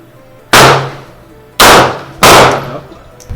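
Three sharp, loud gunshots from a subcompact handgun crack close by at an uneven pace, each with a short decaying tail.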